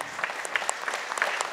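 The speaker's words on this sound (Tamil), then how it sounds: "எல்லாம் ஒரு வாட்டி நல்லா கைத்தட்டுங்க." A church congregation at Holy Mass claps together in a brief, fairly soft burst of applause, with sharp overlapping hand claps and no talk.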